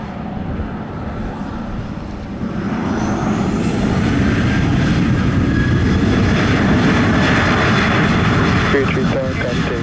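A fixed-wing airplane powers up for takeoff on runway 07 at Montego Bay, Jamaica, its engines building to a loud sustained roar with a rising whine, while radio chatter and voices sound underneath.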